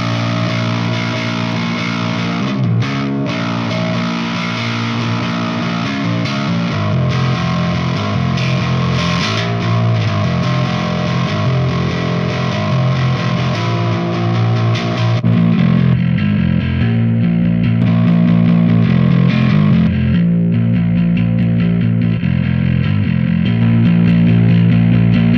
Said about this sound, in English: this is Trace Elliott with added distortion